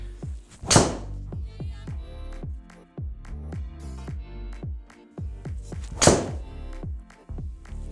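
A Ping G440 driver strikes golf balls: two sharp, loud impacts several seconds apart, over a backing of music.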